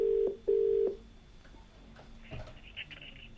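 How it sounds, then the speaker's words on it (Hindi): A telephone rings twice in short steady bursts as a TV host places a call to a viewer, then the line falls quiet with faint background noise and a few small clicks. "तो दोस्तों, अब अपने अगले कॉलर को कॉल लगाते हैं"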